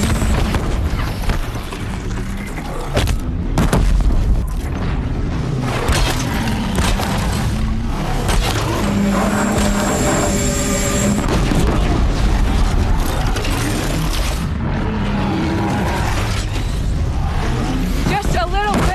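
Disc launcher fire and explosions from the video game Horizon Zero Dawn: a dense barrage of loud booms and blasts that keeps going throughout, with voices talking over the combat.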